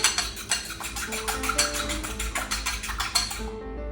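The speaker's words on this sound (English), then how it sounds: "I'm just gonna whisk together the egg." A whisk beats egg in a bowl with a fast, steady metallic rhythm of roughly four strokes per second, close and clear, then stops just before the end.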